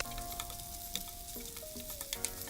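Fish balls fry in a pan with light soy sauce while being stirred to crisp them, giving a steady close sizzle with scattered soft clicks of the utensil against the pan.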